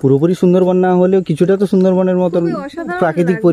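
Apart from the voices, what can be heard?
No everyday noise stands out behind the speech.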